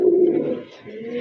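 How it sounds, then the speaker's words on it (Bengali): A pair of local deshi pigeons coo at close range with a low, throaty rolling coo that fades briefly and then resumes more softly. "সুন্দর এক জোড়া কবুতর মাশাআল্লাহ"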